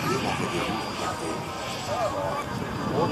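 A Messerschmitt Me 262 replica jet comes in on final approach with its gear down at La Ferté air show, a steady roaring engine drone heard under a commentator's voice.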